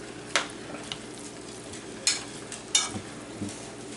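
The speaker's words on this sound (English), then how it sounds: "And I can keep stirring it until it's ready." A spoon stirs pasta sauce in a pan, sizzling steadily with a few distinct scraping strokes against the pan, close by and without talk.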